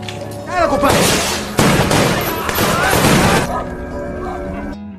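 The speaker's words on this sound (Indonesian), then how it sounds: "Dengan segera mereka beraksi, dan baku tembak pun tak dapat dihindari" Loud, dense bursts of gunfire erupt in rapid succession, mixed with crashing impacts, then cut off and leave a quieter tail.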